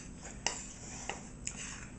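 A spoon clinks a few times against a bowl while stirring dry pizza dough ingredients, three light, sharp taps spaced apart over a quiet background.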